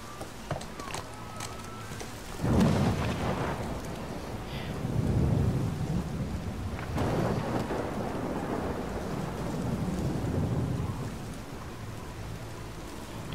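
Thunderstorm with lightning in the God of War video game, heavy steady rain hiss under repeated deep rolling thunder cracks, loud and immersive, with faint voice in the background.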